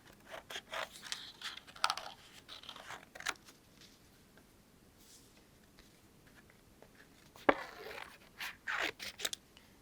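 Scissors snip through dried green painted paper for a botanical art journal, giving a few quiet, irregular crisp cuts and crunches that cluster early and again near the end, with faint rustling between.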